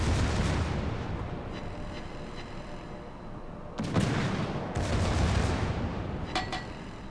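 The secondary guns of a North Carolina battleship fire in a naval video game, producing repeated booming reports over a rumbling roar. Louder bursts come in clusters, with sharp cracks toward the end.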